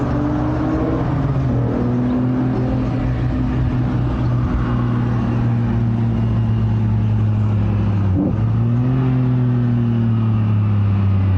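A car with a custom exhaust revs loudly nearby, holding a deep, steady droning engine note that rises and falls slightly, briefly dips and recovers, then drones on.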